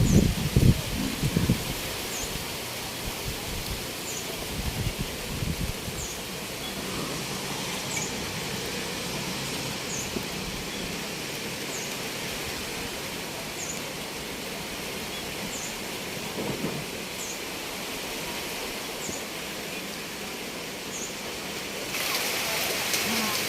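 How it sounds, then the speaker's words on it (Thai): A steady wash of heavy storm rain in Phuket roars continuously, with strong gusty wind adding a broad hiss and a few faint bird chirps far off. "ฝนตกหนักลมแรงมากเลยนะคะ"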